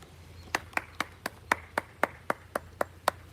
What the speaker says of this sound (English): Old Japanese guys clap when they come here